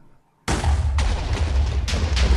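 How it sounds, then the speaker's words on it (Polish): Several heavy booming TNT blasts in Minecraft, one right after another, loud and close, with rumbling low end and no voices. "Tak, i wybuchło TNT chyba."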